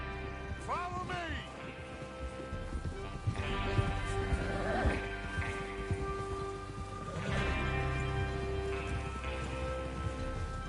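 Horses galloping in Red Dead Redemption 2 during a train-robbery mission, a busy mix of hoof clatter and game ambience with music-like tones running throughout, while voices talk over it.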